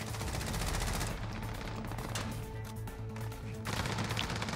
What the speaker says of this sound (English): Oh, I'm getting shot from somewhere.